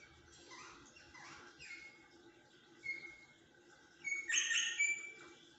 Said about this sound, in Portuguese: São Rosella vermelho.